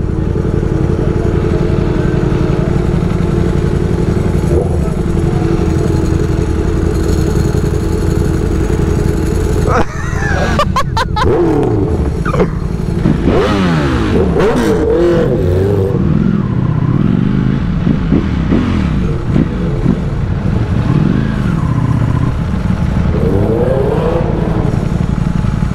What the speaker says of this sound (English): That Ducati drive clutch sounds mental.